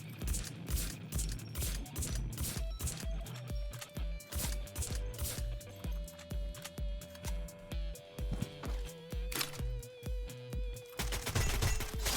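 Rapid bursts of Free Fire video game gunfire crackle over a busy, layered game soundtrack, with repeated shots in quick succession throughout.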